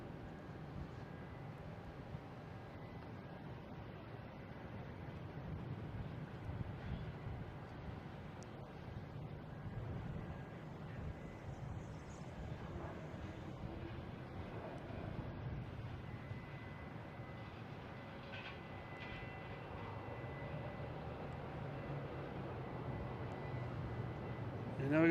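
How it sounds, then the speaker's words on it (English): A JetBlue airliner arriving from Houston at Boston Logan International Airport gives a faint, steady distant jet rumble that holds evenly for the whole stretch, with light wind noise and no clear voices. "we got a JetBlue coming in from Houston"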